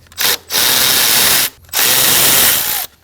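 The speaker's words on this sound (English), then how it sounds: "go ahead and use a 10mm socket and take those out" A ratchet with a 10mm socket spins out bolts on a 2011-2016 Kia Optima 2.4L engine, two loud, close bursts of fast clicking whir separated by a short pause.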